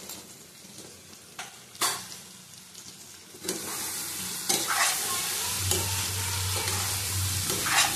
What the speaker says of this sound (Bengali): ভালো করে কষিয়ে ঢেকে ঢেকে করবো